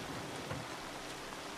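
Steady, dense rainfall forms a continuous hiss at moderate level with a faint low rumble of thunder beneath, no voices over it.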